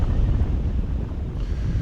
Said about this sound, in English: the wind just started kicking up kind of out of nowhere here